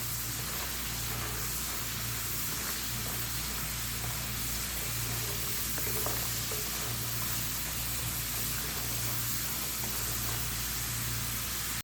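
Potato French fries coated in gram flour deep-frying in oil, a steady, even bubbling hiss running unbroken throughout at moderate level, with a faint low hum underneath.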